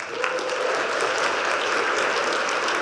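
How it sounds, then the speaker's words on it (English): A leadership event audience in Las Vegas gives a steady, dense round of applause, loud and continuous throughout with no talking over it. "big round of applause for LJ."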